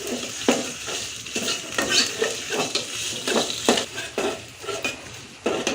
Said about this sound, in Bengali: দিয়ে নাড়াচাড়া করব একটু কিছুক্ষণ ভাজবো যাতে কাঁচা ভাবটা চলে যায়